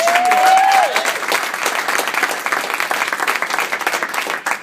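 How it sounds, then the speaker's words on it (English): An audience at a meeting gives a round of applause, steady and full for several seconds, with a brief whistle near the start. "So give a huge round of applause for Amy."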